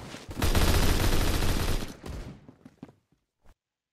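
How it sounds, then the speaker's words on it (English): Rapid full-auto shotgun fire in the Roblox shooter Phantom Forces, a dense, loud burst of blasts lasting about two seconds, followed by a few scattered shots that fade to silence. "Pretty much a full auto shotgun."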